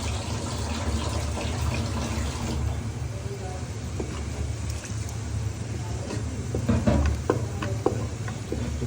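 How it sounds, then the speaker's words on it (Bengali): Water is poured into a cooking pot over ground chili, coriander and cumin for oil-free bhuna khichuri, a steady rushing splash over a dense, constant kitchen background with faint sizzling. "পানি দিয়ে দিলাম"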